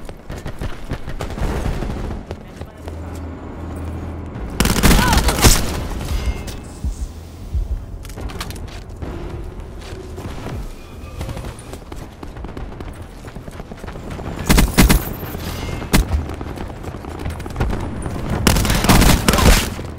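Sniper fire crackles from an emplaced sniper's nest in a sci-fi shooter game, sharp loud bursts at intervals over scattered shots and rumbling battle noise.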